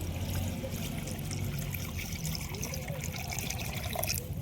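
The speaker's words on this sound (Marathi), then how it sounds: "आता पाण्यानं मस्त चकचक धुवून घेऊ" Pieces of katla fish are washed under running water, a continuous loud rush and trickle of liquid with no pauses, close by and alone without talk.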